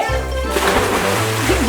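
Water splashes and sloshes in a new backyard swimming pool as someone jumps in, a loud broadband burst followed by churning water, with people talking and calling out over it.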